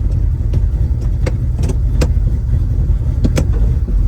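A 1970 Chevrolet Nova with dual exhausts and a built Turbo 350 transmission cruising, a steady loud engine rumble heard from inside the car with recurring clicks and rattles over the drone.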